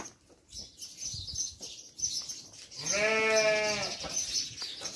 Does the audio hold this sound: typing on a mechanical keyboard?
no